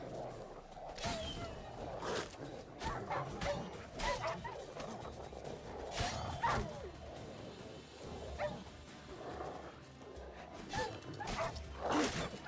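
Stray dog pack in The Witcher 3 video game barking and yipping repeatedly at mid distance, with bursts of yelps and whimpers amid scuffling and game noise.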